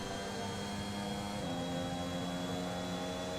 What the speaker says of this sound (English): Using full throttle here to try and burn the fuel